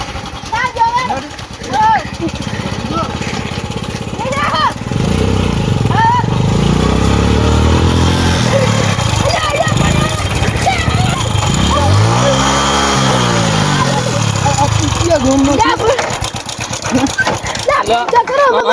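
A motorbike engine runs and revs nearby on a village road, rising and falling in pitch as it idles and moves, mostly beneath loud, overlapping voices of people arguing.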